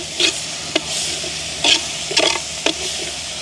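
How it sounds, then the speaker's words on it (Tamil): Sauce is stirred into a hot frying pan for a prawn dish, with steady sizzling broken by several scraping spoon strokes against the pan. "சோஸ் சேர்ப்போம் அப்படியே கலந்து விடுவோம்"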